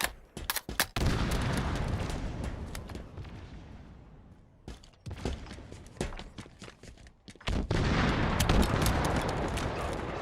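Weapon fire in a Halo Team Slayer multiplayer match, loud bursts of rapid shots separated by brief pauses, with no talking.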